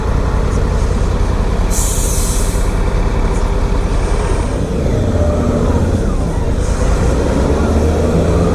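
A bus passing close on a wet road, heard from a 2017 Honda Africa Twin on a commute, with loud, continuous engine rumble and a sharp hiss of air brakes over steady road noise.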